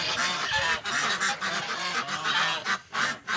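Caged farm geese honk loudly and continuously, many overlapping calls crowding together close by with no pauses.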